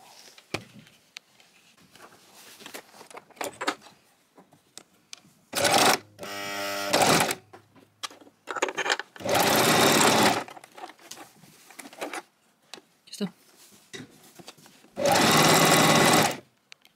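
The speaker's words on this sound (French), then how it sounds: "Je vais coudre dans un sens et après je viens découdre dans l'autre sens." A sewing machine stitches a dress seam. Several distinct bursts of loud, rapid mechanical whirring start and stop between quieter handling sounds and faint talk.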